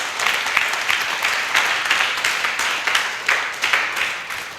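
A hall audience at a motivational talk breaks into loud, sustained applause, dense clapping with rhythmic surges throughout, no voices over it.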